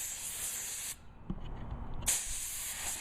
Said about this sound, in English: we're going to take our PVA and spray our mold